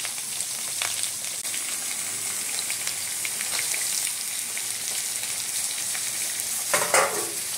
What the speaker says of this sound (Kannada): ಶುಂಠಿ ಬೆಳ್ಳುಳ್ಳಿ ಪೇಸ್ಟ್ ಹಾಕಿ